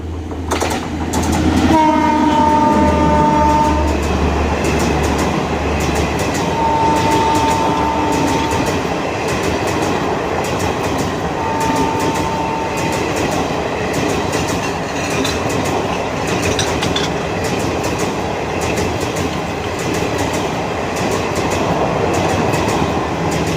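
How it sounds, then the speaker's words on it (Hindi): A WAP-7 electric locomotive passes hauling a passenger train, a long horn blast at the start giving way to a loud, steady rumble of generator hum and rhythmic wheel clatter. "क्या जनरेटर की आवाज़ आ रही है।"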